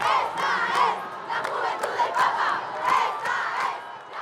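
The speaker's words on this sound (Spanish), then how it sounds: "El concierto duró 1 hora y terminó con la ovación del público." A crowd cheers and shouts in ovation at the end of a one-hour church concert, loud voices rising and falling in waves.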